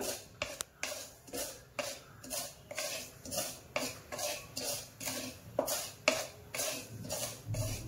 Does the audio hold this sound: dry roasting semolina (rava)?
yes